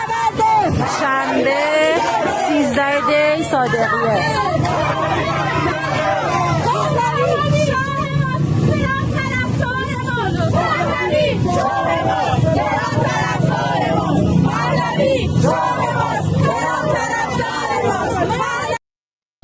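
Rally crowd chants in Farsi, a loud, dense mass of rhythmic voices shouting together in repeated phrases with whoops over a continuous roar, sustained throughout.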